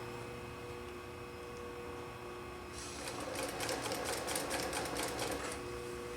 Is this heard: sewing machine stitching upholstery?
yes